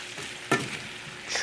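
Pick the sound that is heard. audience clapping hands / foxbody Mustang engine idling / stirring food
stirring food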